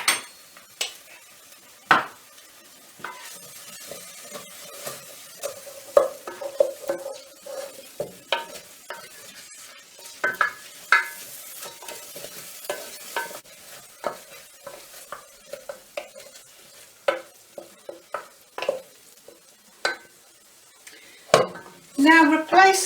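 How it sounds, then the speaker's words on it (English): A spoon stirs food frying with curry powder in a pan, making irregular scrapes and clinks against the metal over a faint, low sizzle, with no talking. "stir with a dessert spoon of curry powder until they're a rich brown colour"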